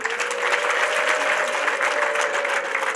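Sustained applause from a wedding crowd honouring a mother, dense, steady clapping close by, with a faint tonal hum beneath and no talk over it.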